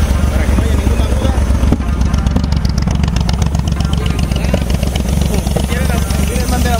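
A truck engine fitted with a motorcycle carburetor idles with a steady, rapid low chugging throughout, while someone talks over it close by.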